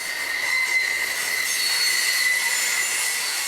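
A BNSF grain train rolls past steadily, its wheels giving off a sustained high metallic squeal over continuous rail rumble, loud and close throughout with no pauses.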